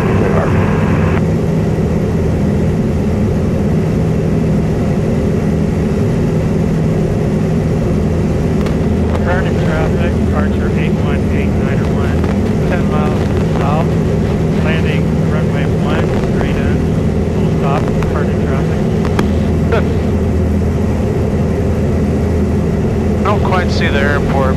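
Light training aircraft engine droning steadily in flight during a private pilot lesson, loud and continuous throughout, with cockpit radio and voice chatter breaking in over it.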